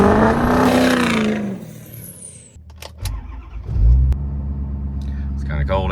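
Ford 6.7 PowerStroke diesel engine starting: a starter whine, then the engine catches with a deep rumble and settles into a steady idle, with voices talking over the opening seconds.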